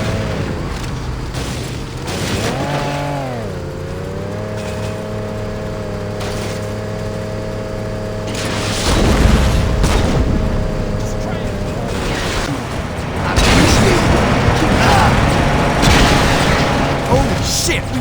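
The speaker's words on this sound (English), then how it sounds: "Drop those bitches with the rocket launchers!" Loud rocket launcher blasts and rumbling explosions in the video game Saints Row, booming over engine drone and background game noise, with voices shouting in the scene.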